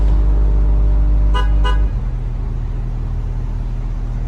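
A deep, booming 40 Hz bass tone from a car subwoofer throbs loudly for about two seconds, then drops to a softer low rumble.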